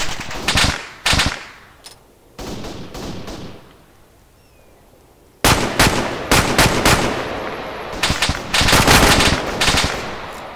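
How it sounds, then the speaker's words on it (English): A DShK heavy machine gun in a video game fires through a building in several loud, rapid bursts, separated by a brief lull. "the Dishka's shooting through the building at me"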